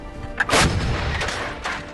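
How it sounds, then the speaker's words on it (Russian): A loud, close artillery gun firing, a single heavy blast followed by booming reverberation and faint echoes trailing off, with no talk over it. "Выстрел!"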